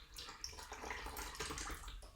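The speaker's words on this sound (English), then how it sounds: "I'm going to pour a little bit into my water" Clay slip of milkshake consistency poured into water to tint plaster, a soft faint trickling splash lasting a couple of seconds, close and without talk.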